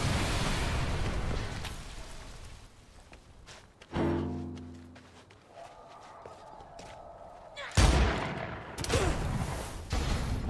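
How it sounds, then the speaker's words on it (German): Magnum revolver gunshots in the zombie video game Dead Island 2, two loud booming blasts a few seconds apart with reverberating tails, amid game noise and footsteps while someone talks. "Ich hab leider daneben geschossen. Dicker Magnum-Revolver"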